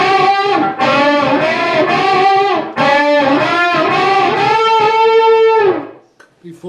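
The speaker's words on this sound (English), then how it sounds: "Unison bends will sound like this." Distorted electric guitar plays unison bends: loud, sustained doubled notes bending upward repeatedly with wavering pitch and a brief break between phrases, fading out at the end.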